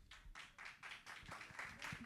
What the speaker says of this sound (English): Big applause to them.